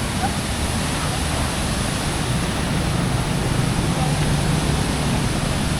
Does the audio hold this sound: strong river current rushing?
yes